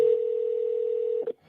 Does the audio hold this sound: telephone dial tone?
yes